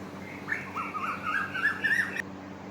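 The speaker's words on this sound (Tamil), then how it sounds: "குயில்," An Asian koel's call from a children's bird cartoon: a run of clear, rising whistled notes building in pitch over about two seconds, fairly loud and alone, then cut off abruptly.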